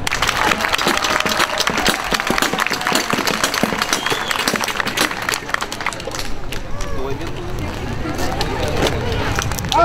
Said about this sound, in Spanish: ¡Aplausos para el número 3!